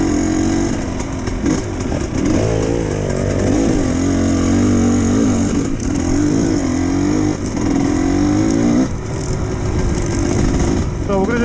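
A GPX TSE 300 dirt bike rides a trail with a close, continuous buzzing engine drone whose pitch wavers as the throttle shifts, steady throughout.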